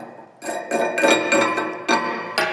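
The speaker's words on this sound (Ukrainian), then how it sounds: "Збиваємо шлак" Welding slag knocked off a weld bead gives sharp metallic chipping hits, a few close loud strikes with brief ringing and scraping between them.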